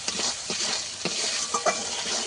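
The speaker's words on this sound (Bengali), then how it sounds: "দিয়ে আমি ভালো করে মশলাটা একটু কষিয়ে নেবো" Masala is stir-fried in oil for a vegetarian paneer curry, with a close, constant sizzle and several quick spoon scrapes against the pan over a couple of seconds, no voices.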